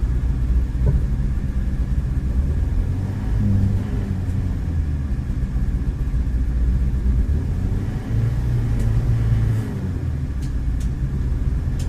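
A Ford XR3i convertible engine accelerating with bioethanol in the tank, a loud steady low rumble from close by, the sputtering and backfiring not clearly picked out from the drone.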